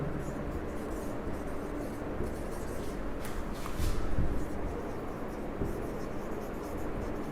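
A teacher writing notes about mainframe computers on a classroom board, soft continuous scratching and rubbing strokes with a slightly louder burst midway, close-up under low room noise.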